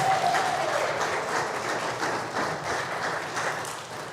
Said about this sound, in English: just give him an applause of love.